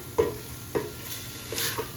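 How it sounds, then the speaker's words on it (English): Oregano, bay leaves and paprika are gently sautéed in a pot under a low, even sizzle, with two distinct spoon scrapes early on and a few softer stirs later, close and fairly quiet. "I'm going to go ahead and gently saute those"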